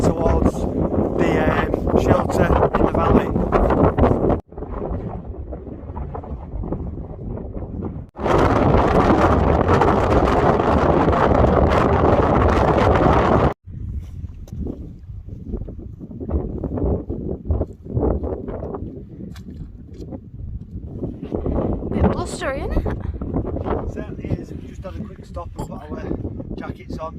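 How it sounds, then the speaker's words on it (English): Strong wind on Saddleworth Moor roars and buffets hard against the microphone in long loud gusts that drop away abruptly and return, while a person talks over it. "It has got quite windy"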